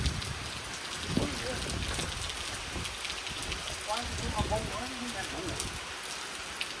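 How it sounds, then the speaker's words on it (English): Rain from an afternoon storm patters steadily on surfaces, a constant hiss with occasional heavier drop hits, while voices talk briefly over it in the middle. "this is the most pitiful raindrops I've ever seen in my life"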